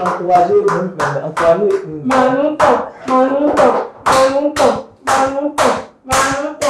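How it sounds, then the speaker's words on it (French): Steady hand clapping, about a dozen sharp claps in a regular rhythm, close and fairly loud, with no talking. "laisse-moi applaudir pour moi"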